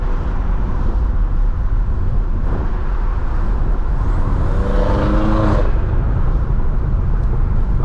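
A BMW 3 Series driving on the road: a continuous close engine and road roar, with the engine note rising briefly partway through. There is no talk.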